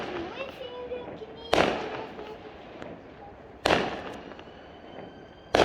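Bonfire night fireworks going off outdoors: three loud booming bursts spaced a couple of seconds apart, each decaying into rumbling echo, with a faint whistling rocket tone in between.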